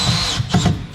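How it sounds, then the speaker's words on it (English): A power drill bores screw holes into an aluminum hatch frame and the steel frame of a camper trailer, a loud close whine that dips briefly mid-burst as the bit bites in. "this is done by pre-drilling the holes and then putting screws to the aluminum frame and into the steel of the trailer"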